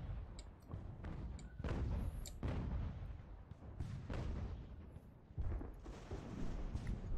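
Gunfire and artillery fire in the Ultimate Admiral Age of Sail video game during the siege of Toulon: repeated booming cannon shots and crackling musket volleys, moderately distant and fairly quiet, overlapping in an irregular rhythm.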